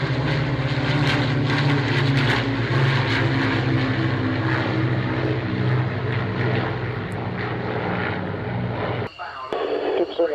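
A propeller-driven Lancaster bomber taxis with its engines holding a steady, throbbing drone, and voices speak over it before the engine sound cuts off abruptly near the end.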